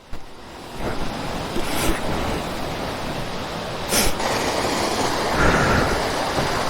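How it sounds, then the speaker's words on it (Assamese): Cold water pours down a jungle waterfall in a steady, broad rushing roar that stays close and loud for the whole stretch, with brief gusty swells and no voices. "চেঁচা পানী বৈ গৈছে"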